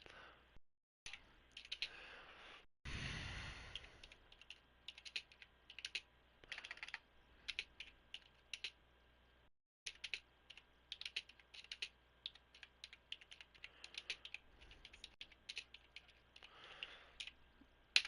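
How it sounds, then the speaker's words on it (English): Keys on a computer keyboard clatter in irregular bursts of close, crisp clicks, with gaps of silence between runs of typing and a brief sigh-like breath early on. "Oh, you hear my typing"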